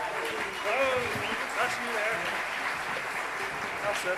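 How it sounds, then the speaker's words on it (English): Applause from a crowd at a live Irish traditional music winter school concert, a steady wash of clapping with faint tonal whistles or voices threaded through it. "So give them a big round of applause."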